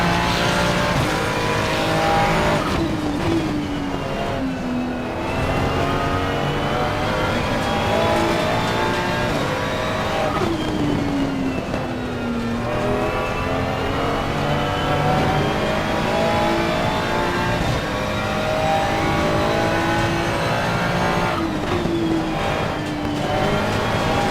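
A Ferrari race car engine howls at Monza in a racing video game, its loud, continuous high-pitched note rising through the gears and dipping on shifts for over twenty seconds without speech.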